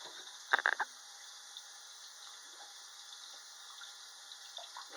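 Tap water running over reborn doll kit parts, a steady soft stream with a few brief louder splashes and knocks near the start.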